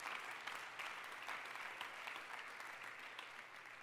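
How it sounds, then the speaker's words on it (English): Steady applause from an audience, many hands clapping continuously at a moderate level, with no voices standing out. "I appreciate your applause."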